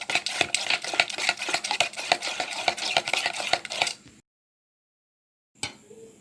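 A spoon stirs soaked semolina cake batter in a bowl with rapid, steady scraping and tapping strokes close by. After about four seconds there is a silent gap, then faint clinking resumes.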